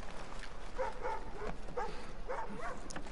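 A blind dog whimpers and whines anxiously in short, repeated, high-pitched bursts, fairly faint and close against a quiet room background.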